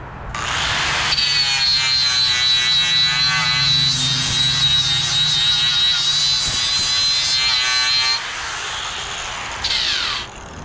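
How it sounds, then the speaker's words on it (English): A power sander grinds across the metal of a C10 truck cab with a continuous high whine, holding steady for about eight seconds before easing lower. "And then we'll just sand it."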